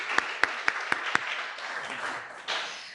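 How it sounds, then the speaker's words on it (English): Audience at a community roundtable on gun violence applauds: a handful of sharp, separate claps up front give way to a fuller, steady wash of clapping from the crowd, moderately loud and with no talk over it. "give them a round of applause."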